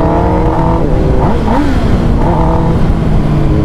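Motorcycles ridden on a city road, including a Hayabusa, a ZX-10R and a ZX-10, with loud, steady engine drone and rising and falling revs throughout, recorded close.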